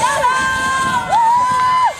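Spectators at a timber sawing competition in Sisters, Oregon shout and whoop encouragement to the sawyers, with sustained rising and falling calls over a busy outdoor crowd.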